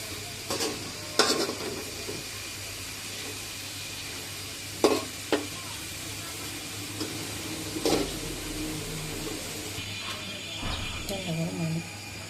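Hot oil sizzles in a pot while biryani is being cooked, a soft continuous hiss with occasional sharper crackles under a person talking.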